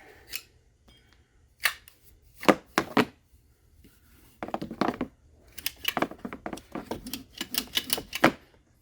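Recoil starter being refitted onto a Firman 3650 inverter generator: scattered sharp plastic clicks, snaps and clunks close by, irregular and separated by quiet gaps, with no talking.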